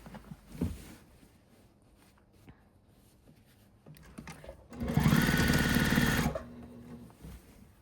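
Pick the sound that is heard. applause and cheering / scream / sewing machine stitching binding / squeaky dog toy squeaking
sewing machine stitching binding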